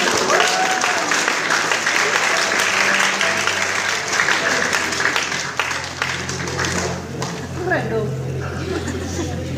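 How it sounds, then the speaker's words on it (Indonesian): A church youth congregation at an Easter service applauds loudly and steadily, with crowd murmur and some voices blended in, the clapping thinning slightly toward the end. "Tepuk tangan."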